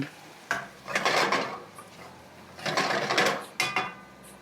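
Metal utensil scrapes and clatters against a pan while stirring pork bites, a few short bursts, close and fairly quiet, with pauses between strokes.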